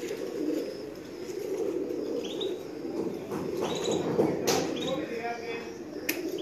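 Shastre Kuldumbe pigeons coo in a low, continuous murmur at a pigeon gathering, with scattered chirps and faint background clatter.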